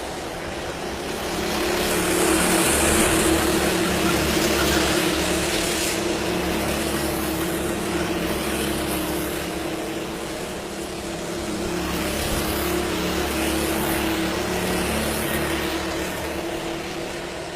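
Monaco R5 rally cars racing, a continuous engine roar that swells and fades as cars pass, with several motors overlapping at close to middle distance.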